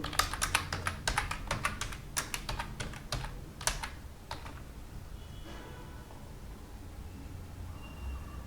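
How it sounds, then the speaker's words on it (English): Rapid bursts of keystrokes on a computer keyboard as a password is typed, close and crisp for about four seconds before fading into quiet room tone. "Now I will type the password."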